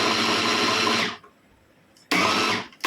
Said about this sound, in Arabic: الملوخية بضربها اهو معاكم